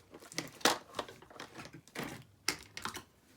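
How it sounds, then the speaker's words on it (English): Scissors or snips cut through paper craft material in a series of crisp, close snips with an uneven rhythm and short pauses between cuts. "now you're going to take your scissors,"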